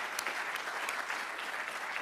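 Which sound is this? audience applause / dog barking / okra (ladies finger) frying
audience applause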